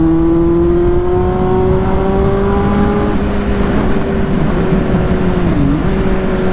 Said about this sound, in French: On a une moto, on a un 4 cylindres